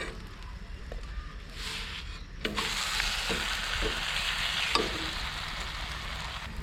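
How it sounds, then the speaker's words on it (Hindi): Aloo paratha loaded with cheese cooking on a hot griddle while butter is spread along its side, giving a steady soft sizzle with a few light scraping taps. "अब इसकी साइड पे बटर लगाते हैं।"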